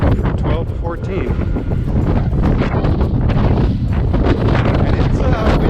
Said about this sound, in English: it's windy and cold up here, so the sound is going to be horrible